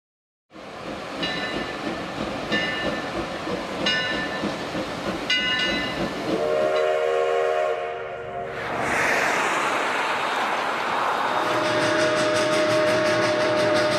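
Train rolling along railroad tracks, a steady loud rumble with rhythmic clicking of wheels over rail joints and a brief tonal horn-like passage midway, continuous throughout with no talk.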